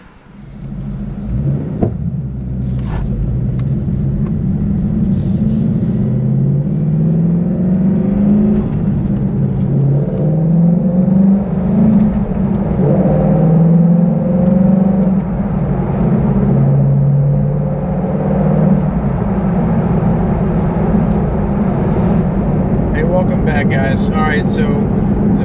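A 2018-2019 Ford Mustang fitted with a Barton shifter drives along, its engine a steady, loud rumble with rising and falling rev sweeps as it moves through the gears.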